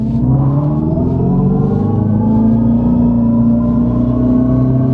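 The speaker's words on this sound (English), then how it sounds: "that's the Power Shot 40 horsepower mode merging onto the freeway" A Dodge Charger Daytona electric car accelerates hard in Power Shot mode while merging onto a freeway, its synthetic exhaust sound rising steadily in pitch, loud and continuous from inside the cabin.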